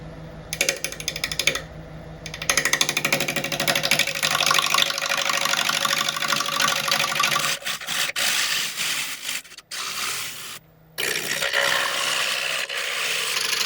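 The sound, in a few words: woodturning lathe flattening a burl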